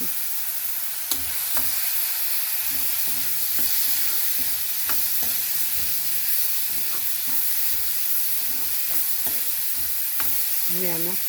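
Soaked moth beans fry in hot oil in a pan, a loud steady sizzle up close with repeated scraping stir strokes and occasional clicks, no talking.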